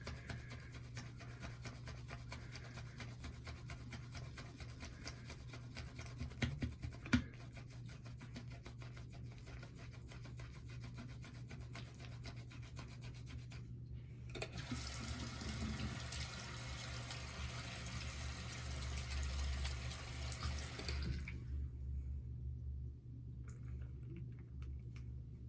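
A makeup blush brush being worked with soap and water at a sink, giving steady close rubbing and swishing with running water, growing louder and wetter midway before easing off.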